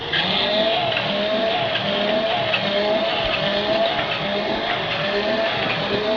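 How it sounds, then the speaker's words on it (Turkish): A voice-activated automatic baby cradle's motor runs with a steady mechanical whine, a faintly wavering tone over a dense hum at an even loudness. "Beşiğimiz çalışmaya başladı."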